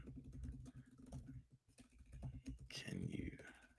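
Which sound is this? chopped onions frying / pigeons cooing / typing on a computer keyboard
typing on a computer keyboard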